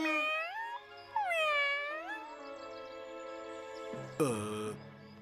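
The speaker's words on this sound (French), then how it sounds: "Dégage, le chat!" A cat meows repeatedly, several drawn-out, rising and falling cries close by, the last one louder and more strained.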